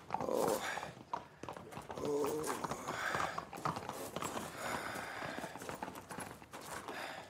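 Horses are ridden away, their hooves clip-clopping in a busy, uneven patter with an occasional whinny, fairly faint and muddled with other movement noise.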